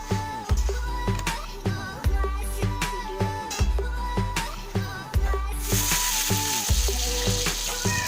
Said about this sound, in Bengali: তো সেই তেলে আলুগুলোকে ভেজে নেব আগে